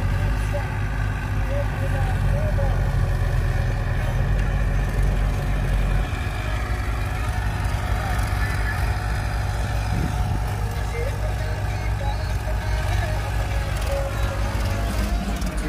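A Massey Ferguson 241 tractor's diesel engine rumbles steadily nearby with a low, continuous throb as it is put in gear and pulls while stuck in a village; people talk over the engine noise.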